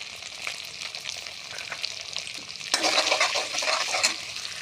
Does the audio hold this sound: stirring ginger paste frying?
yes